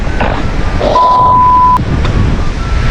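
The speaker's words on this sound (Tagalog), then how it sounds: "Medyo malakas ang hangin ngayon" Strong wind buffets the microphone in a constant roar, with a faint tone and a couple of clicks under it.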